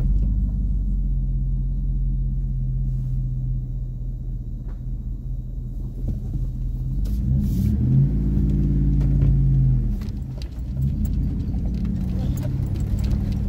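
A Chevrolet Silverado truck's engine on a trail gives a loud, steady low rumble close by. It rises into a brief rev partway through, then settles back to a lower idle.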